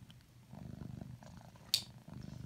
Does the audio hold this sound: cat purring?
yes